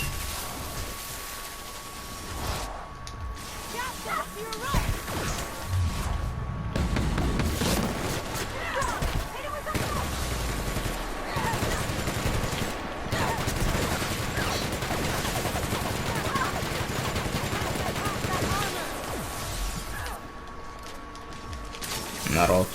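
Sustained gunfire in The Outer Worlds, dense bursts and rattling shots running under a steady game soundscape throughout, with a tonal hum in the background.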